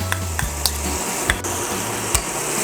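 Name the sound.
stirring pork and tuna sisig in pan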